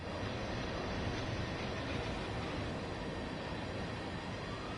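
A train rolls past in the Train Sim World 5 simulator, a continuous close rumble and rail roar holding steady from start to finish with no talk.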